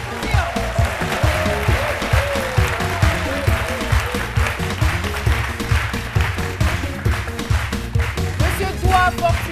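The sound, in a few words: studio audience applause welcoming guest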